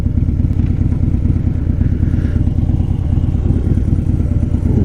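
A 2015 Harley-Davidson Dyna Wide Glide engine rumbles steadily while riding toward a lake, a loud, continuous low throb with pulsing beats and some wind and mechanical clatter, no talk.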